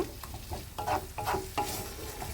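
Cauliflower tossed with spices in a pan, a spoon scraping and stirring in quick, uneven strokes over a low background sizzle, close and moderately loud.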